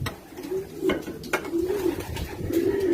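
Racing pigeons coo in their loft, with low, rolling throaty calls repeating close by over a background of soft rustling and occasional clicks.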